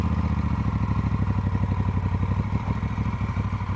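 A motorcycle engine throbs steadily at close range on a Route 66 road trip, a loud rhythmic idle with clattering pulses and no talking over it.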